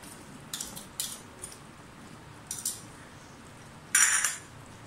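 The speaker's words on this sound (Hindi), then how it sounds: "थोड़ा सा मिक्स कर लें क्रीम को" A spoon stirs cream into spinach palak in a pot, giving several sharp metallic clinks and scrapes spaced irregularly over a quiet background, the last one louder and longer.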